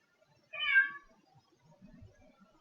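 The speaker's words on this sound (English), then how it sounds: "To hear a random meow from your Alexa" A single recorded cat meow plays from an Alexa smart speaker, one clear rising-falling cry near the start, followed by faint murmuring voices in a quiet room.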